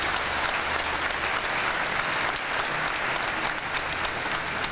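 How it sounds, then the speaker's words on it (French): A church congregation claps in dense, sustained applause that stays loud and even throughout, with no distinct voices standing out. "je n'avais pas fini de parler, ils ont applaudi"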